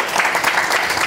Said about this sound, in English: Can you give her a welcome round of applause, Dr. Lauren Lewis?